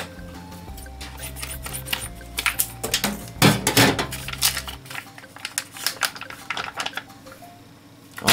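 A package of SB fried onions cut open with scissors at close range, giving a run of crisp snips and plastic crinkles over a low steady hum, with a louder rustling burst midway; no speech.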